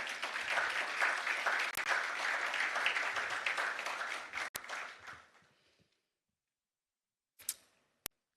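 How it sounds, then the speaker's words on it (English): An audience at a law and business conference applauds the panel moderator, a steady round of clapping that tapers off after about five seconds, leaving quiet with a few isolated sharp clicks. "Please, let's give him a round of applause."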